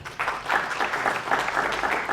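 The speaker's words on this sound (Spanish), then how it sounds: "Un aplauso también, hermanos." An audience at a public presentation on water quality in the Katari river basin claps steadily for about two seconds, a dense, even patter heard close with no voices over it.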